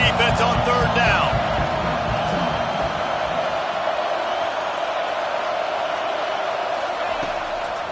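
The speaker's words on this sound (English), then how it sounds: "Decibels rising as the crowd gets behind this defense on 3rd down" A stadium crowd at a Vols vs Ducks college football game roars steadily behind the defense on third down, a dense, sustained wall of cheering with a brief burst of shouts near the start.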